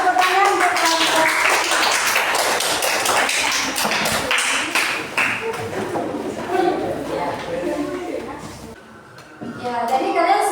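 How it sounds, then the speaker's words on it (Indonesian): A classroom of students claps for a group, producing a dense burst of hand claps that thins out and then picks up again, with children's voices mixed in. "Ya, tepuk tangan untuk kelompok."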